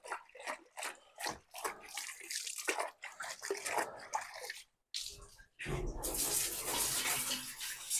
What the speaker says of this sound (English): I'm just giving this a quick rinse off. Just dunk it in here a bit as well.